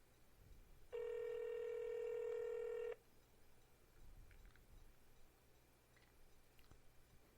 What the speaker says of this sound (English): why is nobody answering a cell phone tonight?